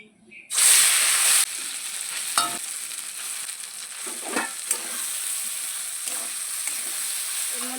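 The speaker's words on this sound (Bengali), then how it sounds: "আমি যে কাঁটালের বীজগুলো বেটে রেখেছি ওইগুলোই মানে তেলে ফ্রাই করব" Ground jackfruit seed paste hits hot mustard oil in a kadai with a loud burst of sizzling, then settles into a steady frying hiss with occasional stirring scrapes.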